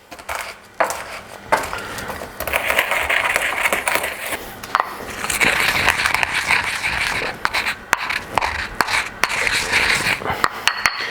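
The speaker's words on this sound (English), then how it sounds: "Sichuan peppercorns, about a tablespoon, and then just going to give those a crush" Sichuan peppercorns, about a tablespoon, crushed to a semi-coarse texture, giving a dry, gritty grinding and crackling with scattered sharp clicks and knocks that run almost continuously, close up and moderately loud, with no voice over it.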